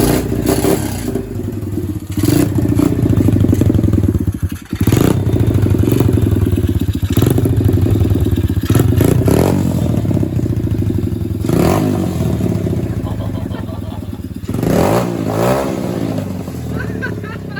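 A Chinese SSR125 pit bike engine idles with a loud, uneven chatter and gets blipped into several sharp revs up close, with people talking over it.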